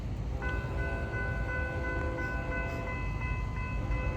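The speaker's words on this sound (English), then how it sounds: "My favorite intermodal train, 24X." Norfolk Southern intermodal train 24X sounds a sustained multi-tone air horn chord over the heavy rumble of the passing train, loud and steady.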